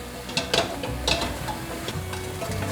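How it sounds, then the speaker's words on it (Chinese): Sweet potato doughnuts stirred in a wok with sugar as it crystallizes into a white coating, giving scraping stir strokes and soft sizzling, a few sharper scrapes standing out, no voices. "还要继续不断的拌炒"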